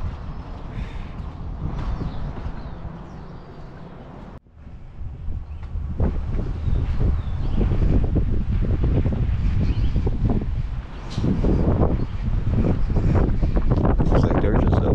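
Strong wind gusts buffet the microphone outdoors on a street in old Bisbee, Arizona, roaring steadily with a brief drop near the start, under occasional faint talk.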